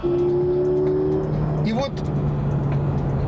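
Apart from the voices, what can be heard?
Peugeot RCZ sports car exhaust sound when accelerating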